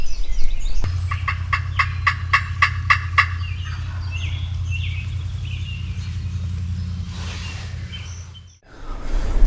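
A wild turkey gobbles from its roost in a quick series of loud, rattling calls close by, over a steady low hum, then quiet outdoor ambience in Wisconsin.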